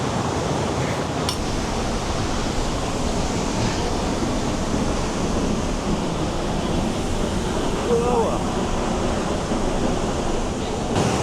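Heavy rainy-season flow at Haew Narok Waterfall in Khao Yai National Park, a loud, steady broadband roar of falling water that continues unbroken from start to finish with no one talking.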